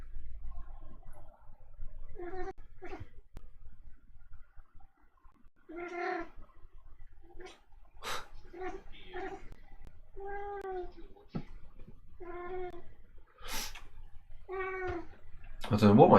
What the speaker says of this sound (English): I don't know what my cat is doing.